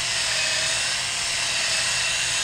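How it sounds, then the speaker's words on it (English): A power drill polishing car headlights gives off a loud, constant high-pitched whine that holds steady throughout with no speech. "I find it way easier to use a drill."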